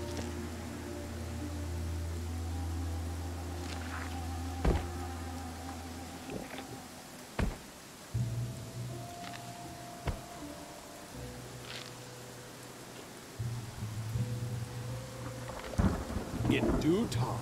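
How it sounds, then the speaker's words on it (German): Steady rain patters beneath a low rumbling hum, with several sharp thunder cracks and booms breaking through at irregular intervals, in the video game Pathfinder: Kingmaker. "Das nenne ich mal Regen."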